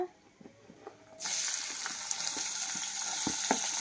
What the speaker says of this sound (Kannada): ಜೀರಿಗೆ ನೋಡಿ ಅದು ಎಣ್ಣೆಲಿ ಸುಡ್ತಾ ಇದೆ